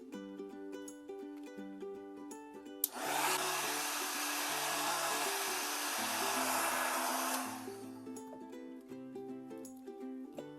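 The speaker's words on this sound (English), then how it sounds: "I'm gonna hit this with the heat gun too" A heat gun blows hot air onto a cardboard shipping box being embellished for a junk journal, a steady loud broadband whoosh lasting about five seconds that starts abruptly and stops, with soft background music before and after.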